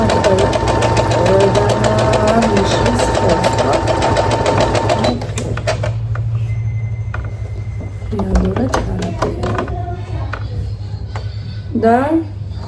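A sewing machine runs steadily with a loud, buzzing mechanical whir for about five seconds, then stops, leaving quieter room sounds and a voice talking.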